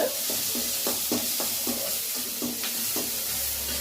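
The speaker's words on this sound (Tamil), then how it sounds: "வெங்காயம் போட்டுட்டு நல்லா வதக்கிடலாம்." Onions sautéing with cumin in a hot pan give a steady close sizzle throughout, broken by repeated scrapes and clacks of a spoon stirring against the pan.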